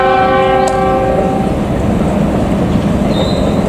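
A passenger train in Indonesia rumbles past close by with a steady roar of wheels on rail, while a short multi-tone horn blast sounds at the start and fades within about a second and a half.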